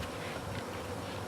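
Honey bees buzz during installation of a new hive, a close, dense, continuous hum of many wings, steady and unbroken.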